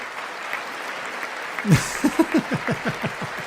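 Applause at a State of the Union address starts suddenly after a quiet stretch. Scattered, fairly close claps follow in an uneven rhythm, as only part of the room joins in.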